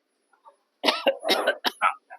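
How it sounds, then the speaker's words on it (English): A burst of harsh, close coughs in quick succession from someone choking on water, loud and wet-sounding, with a brief pause before a final short cough. "I'm coughing, choking on water"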